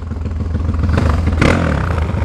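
Honda Today motorcycle engine running steadily up close, a continuous rough low-pitched idle with a brief louder surge midway, no talking.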